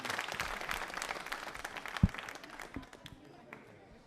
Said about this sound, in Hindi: तालियां बजाइए आप दोनों के लिए